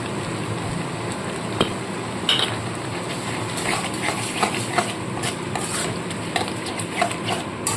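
Prepared sauce goes into a pan of lightly fried capsicum and onion for chilli soya, with steady sizzling, scraping stirs and clinks of a spoon against the pan, close and busy.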